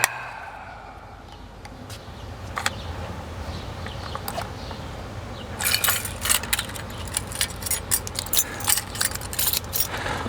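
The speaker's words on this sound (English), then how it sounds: "Love that, 30 keys fall into your hands." A bunch of about 30 building keys jangles close by, scattered metallic clinks growing into a busier rattling cluster as the keys are handled.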